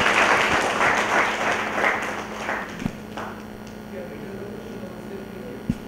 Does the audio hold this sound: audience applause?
yes